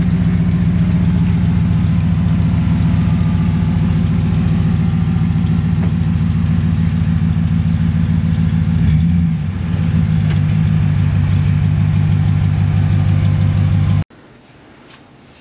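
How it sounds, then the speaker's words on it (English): A Predator 212 kart engine idles loudly and close by, a steady low throbbing chug with a faint rapid ticking from an exhaust manifold leak, dipping briefly near the end before cutting off abruptly. "You hear that manifold leak?"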